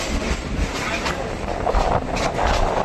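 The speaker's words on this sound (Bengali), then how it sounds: "সাথে সাথেই আমাদের ট্রেন প্রবেশ করছে ব্যারাকপুর।" A local train pulls into Barrackpore station, a loud steady rumble of wheels and carriage noise with faint rhythmic clatter building slightly toward the end.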